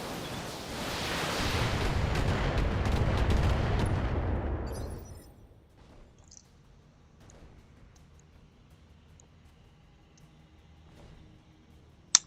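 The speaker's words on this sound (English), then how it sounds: "Firing on target." Mech weapons in the BATTLETECH video game unleash a roaring barrage of fire that swells for about five seconds, then cuts off into quiet with faint scattered clanks and a sharp click at the end.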